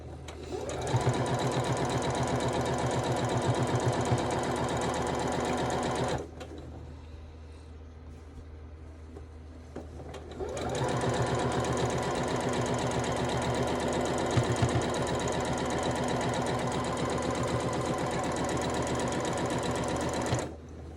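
A sewing machine stitching quilt blocks for a gnome block-of-the-month quilt, running in a steady rapid whir for several seconds, pausing briefly, then resuming for a long continuous run, close and loud.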